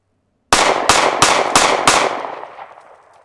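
Five sharp gunshots of Norma MHP ammunition ring out in quick succession from about ten feet, each loud crack evenly spaced, followed by a fading echo, with no talking.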